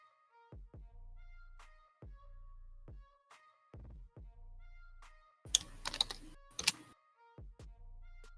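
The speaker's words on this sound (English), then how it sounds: "Hopefully you can't hear my keys." Keys on a computer keyboard are tapped in scattered single strokes and short bursts, with a louder clatter of quick presses in the middle, all close and quiet with no speech.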